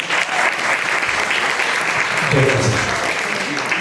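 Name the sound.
audience applause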